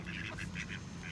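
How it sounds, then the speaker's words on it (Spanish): A flock of ducks gathered to be fed, quacking in a quick series of close, nasal calls, about six bursts in a little over a second. "Ya se nos llenó de patos aquí."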